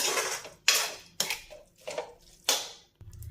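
Metal utensil stirring soy sauce and vinegar into a chicken filling in a pan for cone samosas, a series of about five bright clanks and scrapes at a steady pace, close and fairly loud.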